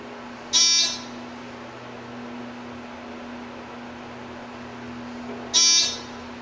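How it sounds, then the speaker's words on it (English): Two loud, harsh buzzer bursts, each about a third of a second, about five seconds apart, inside a Thyssenkrupp hydraulic parking elevator at Village at Fairview, over a steady electrical hum. "Loud buzz."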